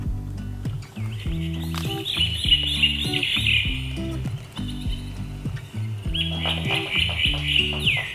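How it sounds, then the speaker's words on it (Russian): Electronic jungle bird calls from a children's sound book chirp and trill in bursts over a looping, rhythmic synthetic music backing, played from a small speaker. "И птицы джунглей."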